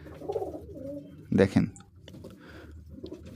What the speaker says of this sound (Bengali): সব কবুতর একসাথে খেতে আসছে।